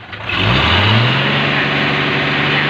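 Diesel pickup engine revving hard in a workshop after a new exhaust pipe is fitted, a loud sustained rising drone close by with no talk over it.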